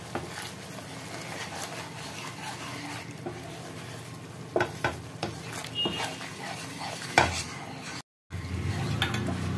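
Paneer butter masala with sugar being sautéed in a new frying pan, a soft low sizzle under scraping and clinking of a spatula on the pan, with a brief dropout near the end.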